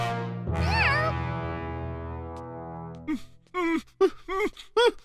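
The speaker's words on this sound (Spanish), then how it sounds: "¡Un gato!" A cartoon cat gives a long, wavering meow, loud and close, followed by a few short, sharp vocal bursts from a cartoon character.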